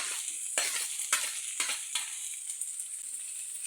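Chopped tomato hits a hot oiled pan with wilted onion and is stirred, giving a bright steady sizzle broken by several scraping stirs of a spoon, with no talk.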